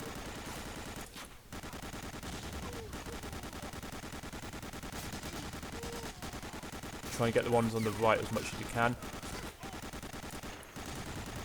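Sustained gunfire in the World War II shooter Medal of Honor: Allied Assault Breakthrough, Monte Battaglia mission, a steady crackling barrage running under a player's voice, with a louder burst of nearby automatic fire near the end.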